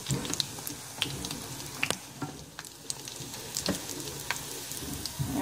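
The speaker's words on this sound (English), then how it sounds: "So I put them in the skillet to fry." Flamin Hot Cheetos–coated mozzarella cheese sticks fry in a skillet with a steady close sizzle, broken by sharp pops and spatters of oil, and no one speaks.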